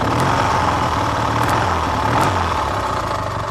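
Engine of a 1970 Triumph Daytona T100R motorcycle running and being given a little throttle, a close, steady low rumble with slight lifts in pace, no talking.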